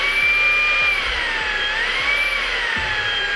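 A slim Fanttik Slim V8 Apex cordless car vacuum runs steadily and close, giving a loud continuous motor whine with a few light handling knocks and no talk.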